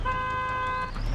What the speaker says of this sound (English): The left mouse button honks the horn.